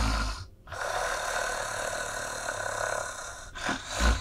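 A voice imitates snoring, giving a drawn-out, rasping snore with a short breathy snort near the end, close and fairly loud with no other speech.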